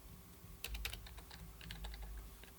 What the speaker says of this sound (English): we can type in Vale --version.